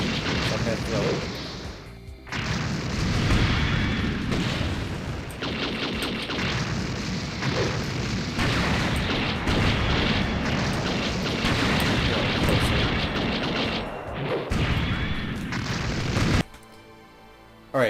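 A thrown weapon explodes in the UC Gundam Online game amid a dense, continuous roar of booms and rumbling blasts that lasts most of the stretch, with someone talking over it.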